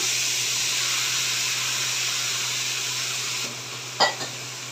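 Loud, steady sizzling hiss as mola fish paste goes into a very hot wok, close and continuous, broken near the end by a brief clatter of a utensil.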